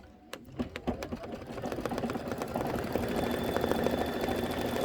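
A quilting machine starts stitching a Kimberbell Stay Cozy quilt, opening with a few rapid separate clicks that build into a steady, dense mechanical whir. It is close, with no voices.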